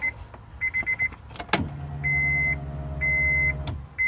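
After a few warning beeps and a sharp click, a Walbro electric fuel pump in a Honda Integra GSR hums steadily for about two seconds, low and buzzing, with chimes sounding over it.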